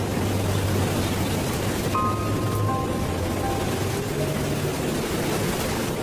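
Rain in a Bengali cartoon, a steady wash of falling water that fills the whole clip, with faint tonal background music lines drifting over it and no voices.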